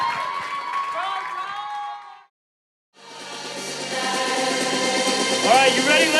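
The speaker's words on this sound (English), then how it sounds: "big, big, big round of applause for your best man, Tyler." Wedding reception guests applaud and cheer for the best man, a dense crowd sound that cuts out briefly to silence partway through, then returns louder with whoops and overlapping voices.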